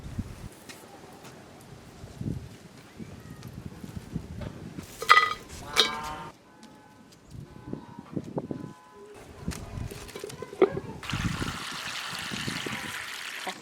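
Warm water runs and splashes in a rural kitchen to soak sun-dried radish, with scattered knocks and handling noises before it. A steady rushing pour of water swells up loud near the end.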